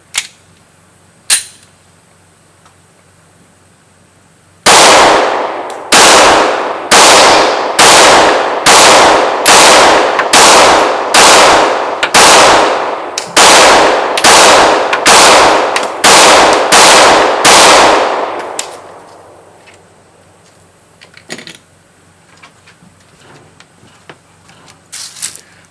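XDm and Glock pistols firing at a target at a range: after two early isolated shots, a steady run of about fifteen loud, sharp reports comes at a regular pace, close by and echoing, then fades into quiet.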